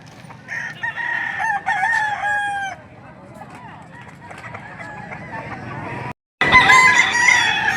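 Roosters crow repeatedly at a busy Philippine chicken market, several loud calls overlapping with clucking and crowd noise, with people talking in the background and a brief dropout before a final burst of crowing.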